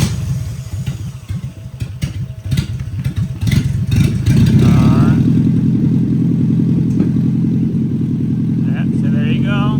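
A 1993 Nissan 240SX engine cranks with an uneven clatter, then catches after fuel injector repair and settles into a loud, steady idle close by, with a voice heard briefly.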